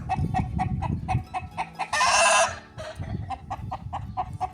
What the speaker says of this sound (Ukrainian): курі тут від сонця ховаються